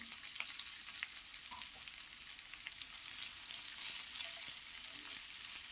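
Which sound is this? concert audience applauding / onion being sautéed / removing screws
onion being sautéed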